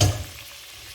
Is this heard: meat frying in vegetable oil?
yes